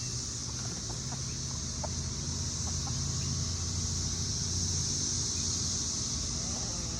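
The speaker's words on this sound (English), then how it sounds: "yes, I have chickens." Backyard chickens cluck softly in a few faint, scattered calls, heard under a constant loud drone of 17-year cicadas.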